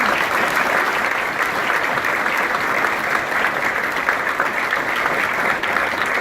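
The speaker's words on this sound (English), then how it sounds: "Would you please give them a round of applause?" An audience at a mayoral prayer breakfast claps in a round of applause, dense and steady from start to finish with no letup, a wash of many hands at a fairly close, even level.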